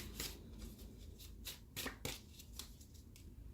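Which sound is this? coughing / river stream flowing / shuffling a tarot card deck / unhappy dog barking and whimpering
shuffling a tarot card deck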